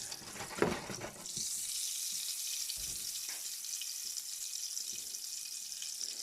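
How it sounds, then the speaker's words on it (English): Butter sizzles and crackles steadily in a hot pan, with a brief clatter near the start, then a constant bright hiss that continues alone without any talk. "melting that butter in"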